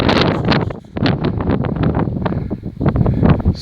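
Strong wind gusting across the microphone on an exposed stretch of the Mt Murchison hiking trail, a loud continuous buffeting roar that dips briefly near the start and then surges again.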